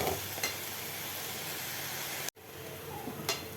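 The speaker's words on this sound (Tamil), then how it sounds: "நல்லா வணங்கிட்டு தக்காளி கொஞ்சம் வணங்கட்டும்." Food sizzles softly and steadily in a pan, a constant hiss broken by a brief cut partway through and a couple of faint clicks.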